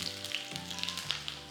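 Shallots sizzling in hot coconut oil with mustard seeds in a pan, a steady close crackle and hiss with small pops, over a low continuous hum, no voices.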